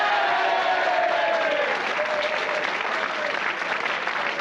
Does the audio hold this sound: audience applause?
yes